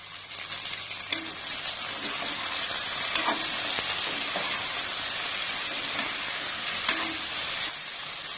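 Two chopped tomatoes sauté with other sambar ingredients in a hot pan, sending up a loud, steady sizzle and hiss with faint scraping stirs now and then, close and continuous with no talk.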